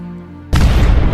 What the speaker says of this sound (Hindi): और तभी वहाँ पर एक जोर का धमाका होता है